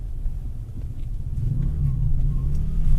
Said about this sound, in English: riding over these bumps, it's pretty comfortable. And you get that low-key V8 rumble